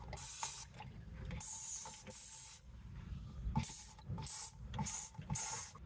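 Dawn Power Wash cleaner is sprayed onto the differential of a 1994 Chevy K1500 pickup in repeated short, close hissing bursts, with brief pauses and faint handling noises between them.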